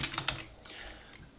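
Quick run of key clicks from typing on a computer keyboard, several taps in a burst at the start, then softer scattered clicks, close and fairly quiet with no voice.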